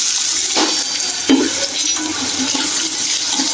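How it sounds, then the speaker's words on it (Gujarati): Loud, continuous sizzling as vegetables, curry leaves, turmeric and asafoetida hit hot oil for tempering, with a brief sharp crackle partway through; no talking. "લીમડીના પાન નાખી આપણે શાક વઘારી લઈએ"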